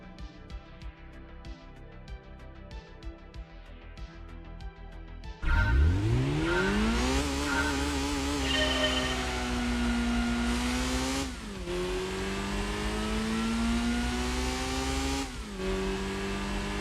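A Honda Civic Type R in the Gran Turismo 2 video game, in a 400-metre run, revs hard from a quiet idle, with its rising engine note climbing through quick gear changes. It is loud and close, with no talk over it.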